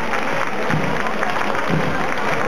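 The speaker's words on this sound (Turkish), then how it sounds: "Anaokulu öğrencilerimize alkışlıyoruz." Crowd applause for kindergarten pupils marching in a school parade, a broad, steady wash of clapping lasting the whole moment, fairly distant and mixed with general outdoor crowd noise.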